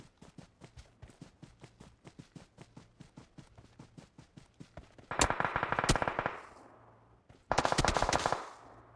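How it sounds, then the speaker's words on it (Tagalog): Gunfire in the mobile shooter game PUBG Mobile: a long run of evenly spaced single shots, then two loud dense bursts of automatic fire, close and without talk. "Barilan sila."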